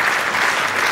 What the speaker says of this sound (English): Even the Scottish supporters have to applaud the work of James Talbot